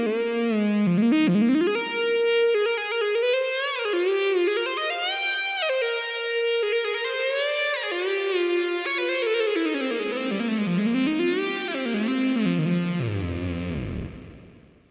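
A Nord Stage 4 saw lead patch with gritty, distorted high end plays a sweeping, bending synth melody that imitates a shredding guitar, continuous and loud until it fades at the end.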